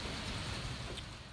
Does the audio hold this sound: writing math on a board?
no